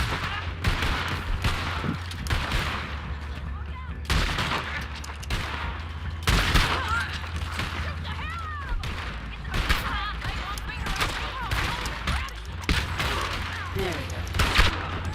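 Gunfire in the video game Red Dead Redemption 2 crackles in scattered shots and short volleys throughout, with someone talking over the shooting.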